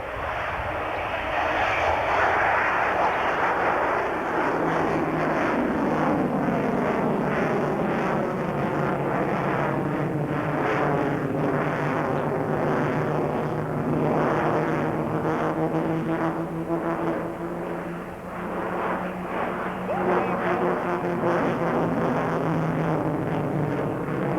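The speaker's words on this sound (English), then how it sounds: "He'll touch down, simulating and missing all 4 wires, puts the power full ahead, you can hear it, and he's off the air once again." An F-14 jet at an air show touches down on a simulated carrier landing, misses the wires and goes to full power for a bolter, a loud sustained roar with shifting whine that swells and carries on for over twenty seconds.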